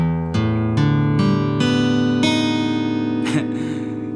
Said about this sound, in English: And so your tuning of your guitar will sound like this.